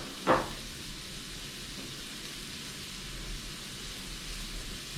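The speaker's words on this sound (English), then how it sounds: "Make sure you put some oil on your pan. Get a nice sizzle going." Oil sizzles in a frying pan with a faint, steady hiss that carries on evenly throughout, with a brief clink near the start.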